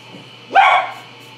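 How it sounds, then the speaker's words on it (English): A single short, close bark from a dog wanting to go outside, loud and sharp against a quiet indoor background. "dog wanting to go out"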